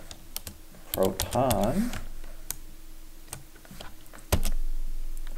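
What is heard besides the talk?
typing a command on a computer keyboard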